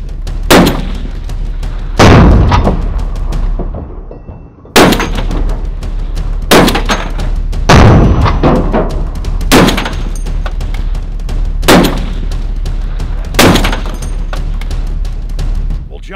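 Rifle fire at a target in daytime, with U.S. Army issue armor-piercing tracer rounds: about eight loud, sharp shots spaced a second or two apart, each with a short ringing tail over a steady outdoor rumble.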